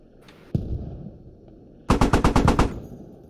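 An M1A1 Abrams tank's coaxial machine gun fires in the game Squad during a Fallujah battle: one sharp report, a short pause, then a loud, close, rapid burst of about seven rounds.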